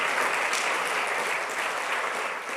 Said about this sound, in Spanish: ¿Qué tal si le damos un aplauso al Señor?